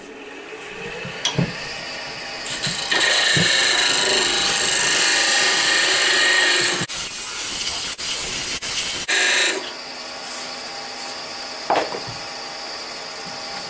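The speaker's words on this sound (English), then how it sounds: "I'll part this down to about inch and a quarter." A wood lathe parts down a snowman turning in a continuous hissing, scraping cut that swells loud for several seconds, drops out briefly and resumes, with occasional small knocks.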